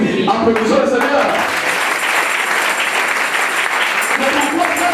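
Loud, sustained applause from a church congregation fills the space for several seconds at a steady density, with voices mixed in beneath the clapping.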